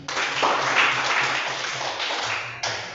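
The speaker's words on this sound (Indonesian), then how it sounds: "Kita sama-sama kasih tepuk tangan" Students in a classroom applaud group 2 after a presentation, with loose, uneven clapping and occasional thumps, fading slightly before a fresh burst near the end.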